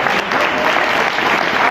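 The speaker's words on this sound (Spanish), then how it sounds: "le doy un fuerte aplauso" A crowd at a wrestling show presentation applauding, dense steady clapping close and loud throughout the short moment.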